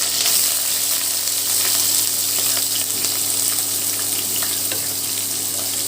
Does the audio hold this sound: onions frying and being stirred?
yes